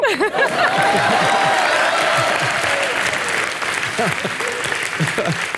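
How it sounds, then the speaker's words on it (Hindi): The studio audience of a comedy talk show with a guest gives loud, sustained applause mixed with chuckles and laughter, while voices talk over the clapping throughout. "हंस लो पर ताली ठोको।"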